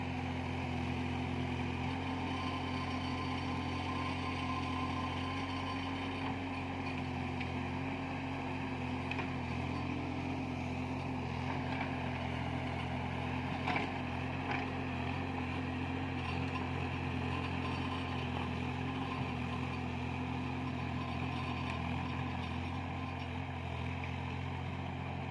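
The engine of a Mini JCB 30 plus runs as a steady low drone during soil leveling on farmland, a continuous mechanical rumble at moderate distance with slight fluctuations and no speech.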